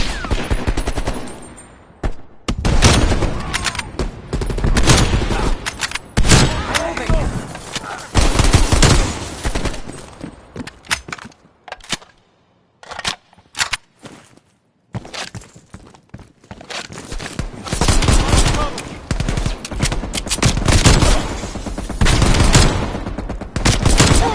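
A heavy machine gun in a Cold War campaign video game hammers out long, loud bursts, with brief pauses and scattered impacts between the strings of rapid shots.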